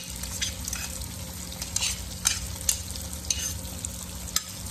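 Vegetarian rice noodles stir-fried in a pan with mushroom sauce, a low steady sizzle under repeated scraping and tossing strokes from a spatula, close and moderately loud, with no voices.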